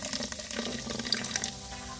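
Liquid trickling and splashing slowly into a frothing fertilizer mixture, a soft continuous pour heard close up with faint bubbling.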